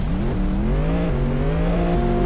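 A motorcycle engine in the APEX Racer wheelie video game revs loudly and steadily, its pitch climbing through successive gears with short drops at each shift, heard alone without talk.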